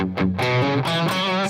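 Telecaster-style electric guitar through a Tube Screamer boost with the volume around half, a brief warm, lightly overdriven phrase of a few notes, close and alone.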